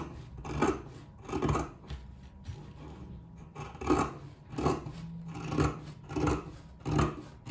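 Scissors trim excess material in a sewing project, a series of about nine rhythmic snips and rasps at close range, evenly spaced with no talking.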